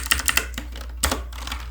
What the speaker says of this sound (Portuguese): Estou errando um pouquinho o teclado,